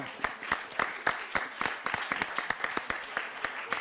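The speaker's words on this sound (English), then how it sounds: "With this answer, we give a round of applause to Christian." An audience at an art, design and science conference session gives a steady round of applause, dense and sustained for the whole four seconds.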